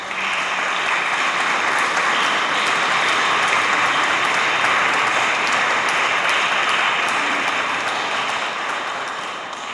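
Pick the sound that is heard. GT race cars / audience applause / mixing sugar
audience applause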